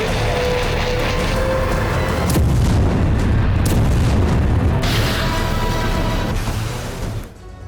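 Heavy booming blasts and rumbling roar from Russian missile strikes in Ukraine, a dense, loud, sustained barrage with sharper bursts breaking through before it fades out at the end.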